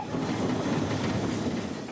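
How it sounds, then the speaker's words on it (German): Preserved steam locomotive 3802 hauls its train on the return run along the heritage railway toward Llangollen in North Wales, a steady close rumble of running wheels and carriages that continues without pause and with no voices. "Lok 3802 hat mittlerweile ihre Rückfahrt angetreten."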